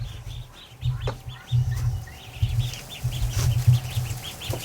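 Young ducks in their pen call repeatedly in short, loud bursts of quacking and clucking, a close, busy chorus with brief pauses between groups of calls.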